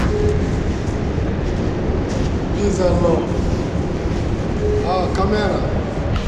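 A double-decker train rumbles steadily with a dense low roar and faint squeals and clanks of the carriages, heard from close by.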